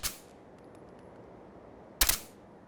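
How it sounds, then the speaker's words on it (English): Spray n' Pray weapon in Fallout 4 firing explosive rounds: two sharp broadband blasts, one at the very start and a second louder burst with a short double hit about two seconds later, separated by quiet game ambience. "It exploded in an area of effect, so I'll try to shoot a few so you can see what I'm talking about."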